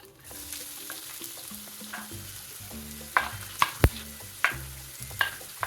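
Two large chopped onions fry in hot coconut oil in a pan, a steady sizzle under busy clattering spatula strokes that grow sharper and louder toward the end, with no talking.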